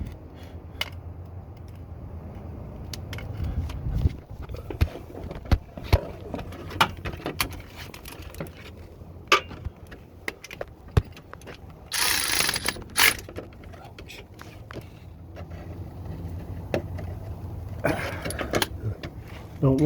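Cordless power tool driving the starter bolts on a 2009 Toyota Corolla: a few short whirring bursts, close up, among clanking ratchet and mechanical handling noises.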